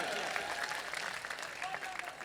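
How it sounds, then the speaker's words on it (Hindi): A mushaira audience in Saharanpur applauds in a dense, steady wash of clapping and crowd noise that holds fairly loud for the whole stretch, with no voice on top. "एक बार दोनों हाथ पर जोरदार तालियां बजाइए मंसूर बद्र साहब की मेहनत को।"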